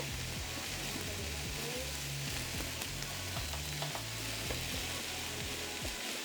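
A butter and flour roux sizzles and crackles steadily in a hot pan while being stirred, the dense frying hiss continuous with occasional scraping strokes.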